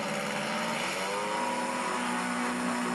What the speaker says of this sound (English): the semifinals featured Harold Sickle's airplane engine versus Brad Hendry's NASCAR engine